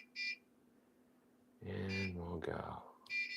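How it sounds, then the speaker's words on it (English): Short, high electronic beeps sound a few times, with a person speaking briefly between them. "Sorry about the beeps."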